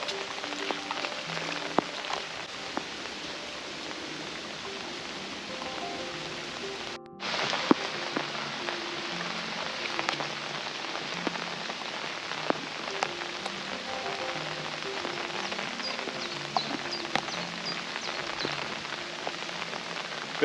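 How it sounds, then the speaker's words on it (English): Steady rain patters on the surface of a private fishing lake, a dense continuous hiss of drops with a brief dip partway through, close and fairly loud with no talk. "Bit of rain don't stop me"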